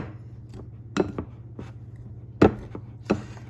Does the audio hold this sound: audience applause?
no